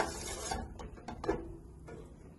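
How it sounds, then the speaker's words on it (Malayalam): Utensil scraping and clinking in a pan while a batter mixture is stirred and thickened for vellappam, a few brief scrapes standing out over a steady soft hiss, close up with no talking. "ഇങ്ങനെ ഇളക്കി ഒന്ന് കുറുക്കിയെടുക്കാം"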